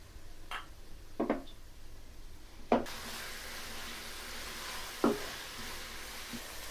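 Soft, steady sizzling of tomatoes sautéing in oil for a Chettinad chicken gravy, with a few sharp clinks of a utensil stirring scattered throughout.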